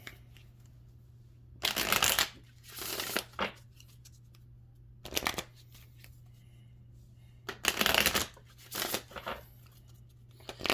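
Cards being shuffled in several short, crisp bursts separated by pauses, close to the microphone, with a faint steady hum underneath.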